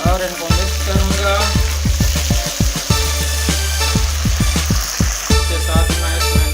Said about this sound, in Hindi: अभी मैं इसके अंदर टमाटर ऐड कर दूंगा और इनको मिक्स करूंगा